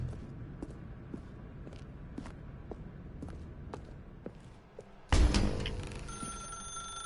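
A telephone rings in The Stanley Parable video game, its loud, close ring cutting in abruptly near the end after a stretch of quiet room tone with soft, regular footstep-like taps.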